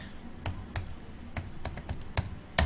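Keys clack on a computer keyboard as someone types a password into an Oracle database import prompt, with a handful of sharp, irregular keystrokes close by and louder taps near the end.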